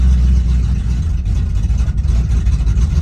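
A Ford Mustang Fox Body that has sat unused for months runs after starting, a loud, steady low engine rumble with slight fluctuations and a few brief dips, close by and with no talk over it.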